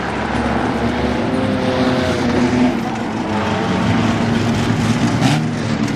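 Stock cars run three wide down the front straightaway at Langley Speedway, a loud, sustained roar of several engines drifting in pitch as they pass, filling the whole stretch.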